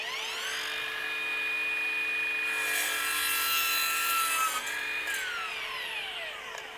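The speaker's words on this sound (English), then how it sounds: "let's see how the multi-material blade does on this PVC pipe." Cordless miter saw with a multi-material blade cutting through PVC pipe, a loud continuous whining buzz whose pitch sweeps as the blade bites and spins down, close up with no talking.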